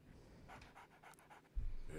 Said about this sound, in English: I see you met my dog.